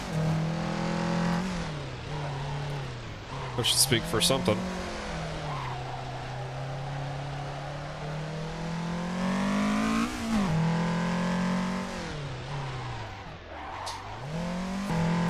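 A race car's engine revs and its tyres squeal in Assetto Corsa on a touge mountain road, a continuous engine drone rising and falling with gear changes, with short squeal bursts and someone talking over it.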